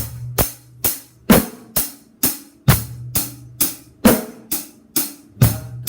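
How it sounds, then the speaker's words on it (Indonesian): A drum kit beating out a blues triplet pattern: a loud, close, evenly spaced run of about a dozen sharp hits, each decaying before the next, with no other sound. "bunyinya seperti ini di drum."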